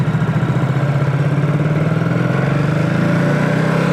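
A Ducati Supersport S motorcycle engine runs while riding, with a loud, close, throbbing drone whose pulsing beat slowly rises in pitch as it revs, continuous and alone without any talk.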